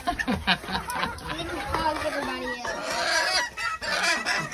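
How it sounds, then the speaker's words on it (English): A Brahma rooster clucks excitedly over mealworms among other chickens, its repeated close clucks and chatter running throughout, with people talking over it. "especially Starlight, that Brahma rooster, who is super sweet. But he goes nuts over mealworms"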